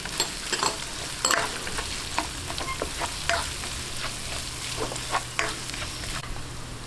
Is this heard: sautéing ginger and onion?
yes